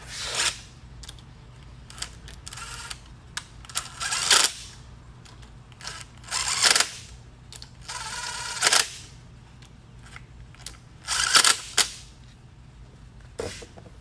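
A ratchet tightens 3/8-24 bolts on a differential in several short bursts of rapid clicking, separated by quieter pauses, close and crisp with no talking.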